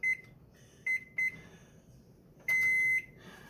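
Kitchen oven beeping while corn bread and banana bread bake: three short electronic beeps followed by one longer sustained beep, loud and close in an otherwise quiet room.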